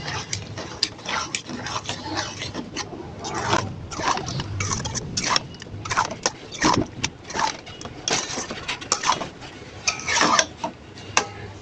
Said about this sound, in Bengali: এখন আমি আবারও গোস্তের সাথে মিশিয়ে দিব,